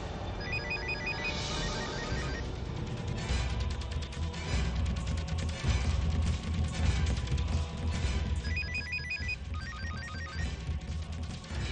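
A telephone rings in a drama scene, repeated electronic ringtone bursts at a steady rhythm over a loud continuous background music bed, no talking.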